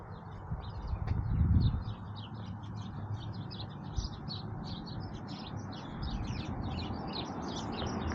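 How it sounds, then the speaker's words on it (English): Birds nesting inside an old stone furnace chirp and tweet in quick, repeated bursts. The calls carry a hollow, echoing quality, with a brief low rumble early on and no voices. "Birds have nests in there."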